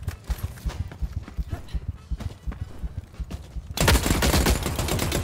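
Gunfire in the video game The Cycle Frontier, rapid bursts of shots rattling throughout, building into a dense, loud volley near the end, with a voice talking over it.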